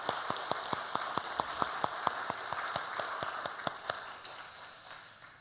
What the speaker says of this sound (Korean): 우리 장로님에게도 한번 박수로 환영 인사를 하도록 하시죠